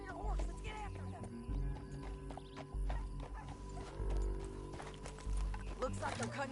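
Galloping hoofbeats in a video game chase through a canyon, heavy repeating thuds under layered game music and sound effects, with voices talking over them.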